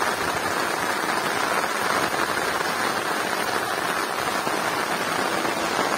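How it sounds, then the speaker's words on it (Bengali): Heavy rain pours down over open farm fields, a dense, steady roar of falling water that stays loud and even throughout with no voices. "কেমন দেখুন, বৃষ্টিটা প্রচুর জোরে হচ্ছে।"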